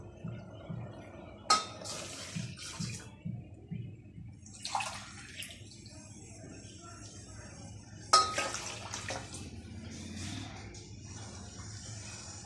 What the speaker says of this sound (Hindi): अब इस स्टेज पे हम इसमें 2 कप पानी और शामिल करेंगे।